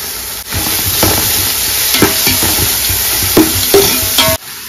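Crushed garlic fries in a pan for biryani with a loud, steady sizzle, while a utensil stirs and taps the pan in irregular clicks, close up, before the sound cuts off abruptly.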